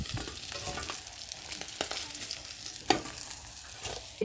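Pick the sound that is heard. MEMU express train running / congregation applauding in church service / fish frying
fish frying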